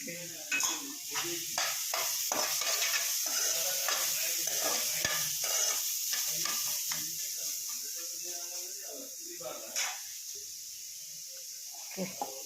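Chicken curry being stirred and fried in a pan, cooked country-chicken style, with a bright hissing sizzle and repeated scraping, clattering strokes of the spoon for most of the clip, easing off toward the end; close by.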